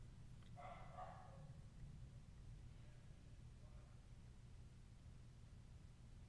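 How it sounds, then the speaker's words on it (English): A dog barks in the distance, one faint burst near the start and a couple of weaker barks later, over a steady low background hum with no talking. "I don't know why this dog is barking."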